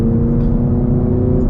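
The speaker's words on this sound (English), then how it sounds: "I'm in tour mode and the exhaust sounds like that" A manual Camaro 2SS 1LE in tour mode accelerates, its exhaust giving a steady, loud, close low drone that holds evenly throughout with no talk over it.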